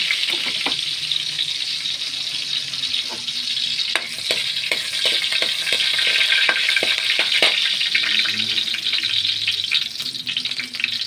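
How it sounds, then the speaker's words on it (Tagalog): Garlic sautéing in a pan for a chayote and ground meat dish, a bright continuous sizzle with scattered ladle clicks and scrapes against the pan, close and steady, no speech. "ito naggigisa natin ang bawang."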